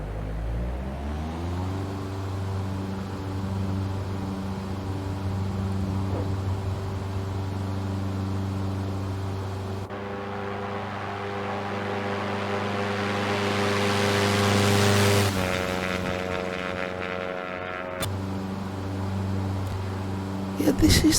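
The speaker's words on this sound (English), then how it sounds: "This is the freeware PropStrike Studios version tweak of the default Cessna 172" Steady droning propeller engine of a Cessna 172 in X-Plane 11 bush flying, a continuous tonal hum that rises slightly in pitch and intensity midway, then shifts as power changes.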